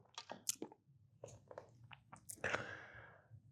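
Crunchy Cap'n Crunch Berries cereal chewed close to the mic, sharp crackling bites and wet squishes in irregular bursts, with pauses between mouthfuls and no talking.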